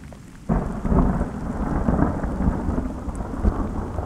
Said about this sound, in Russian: Прям над нами гроза в октябре, обалдеть!